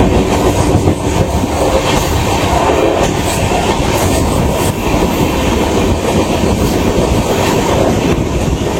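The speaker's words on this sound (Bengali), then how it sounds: "একদম নির্দিষ্ট রাইট টাইমে ট্রেনটা ঢুকছে" The 13151 Jammu Tawi Express runs on the tracks near Jalandhar, a loud, steady rumble with rhythmic clickety-clack of wheels over rail joints and no voices.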